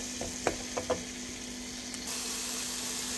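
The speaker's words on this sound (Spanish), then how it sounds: "Aquí le agregué el ajo y la cebolla donde cocí los nopales." Garlic and onion fry in a pan that was just used to cook nopales, giving a steady close sizzle, a few light utensil taps near the start, and a slight rise in the hiss partway through.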